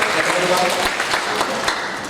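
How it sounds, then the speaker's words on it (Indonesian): Church congregation clapping during a worship service, a loud, dense wash of hands close by and continuing throughout, with voices mixed in beneath it. "Berikan tepuk tangan buat Tuhan Yesus."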